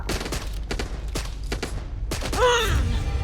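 Rapid gunfire bursts in the co-op zombie shooter Back 4 Blood, a string of sharp shots followed by a whining sweep, loud and close with no talk over it.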